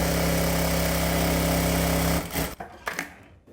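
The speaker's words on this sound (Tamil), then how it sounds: "இப்போ அது தைக்கிறேன் பாருங்கள்." A sewing machine set to speed 2000 stitches fabric in a tailoring lesson, giving a loud, steady, close whir for about two seconds before it winds down and stops.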